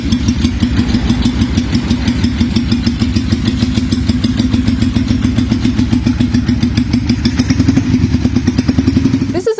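A classic motorcycle engine idles close and loud with a steady, rapid thumping beat that holds unchanged for the whole stretch before cutting off abruptly at the end.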